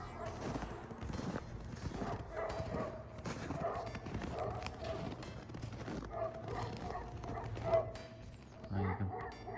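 Dogs in Alaskan woods bark repeatedly at a moose lying in the trees, a series of sharp barks at a moderate distance under occasional nearby talk and rustling.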